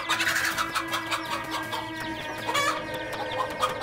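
A mother hen defending her chicks against a cobra clucks and squawks agitatedly and continuously, with overlapping bird cries and a steady background hum.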